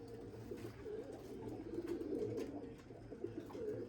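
A Limoni breeding pigeon gives low, murmuring coos, faint and repeated in a loose rhythm.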